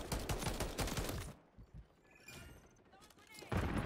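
Rapid automatic gunfire in Call of Duty: a dense burst of shots opens, fades to quieter scattered firing in the middle, then another heavy burst returns at the end.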